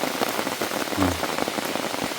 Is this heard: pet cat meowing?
no